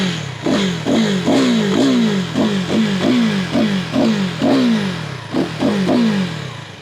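A KTM Duke 390 motorcycle with an underbelly exhaust being revved repeatedly, each sharp throttle blip rising and then falling away, about a dozen quick revs in a steady rhythm, loud and close with no talking.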